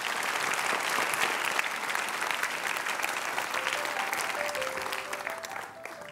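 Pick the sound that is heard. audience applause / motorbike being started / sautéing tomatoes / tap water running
audience applause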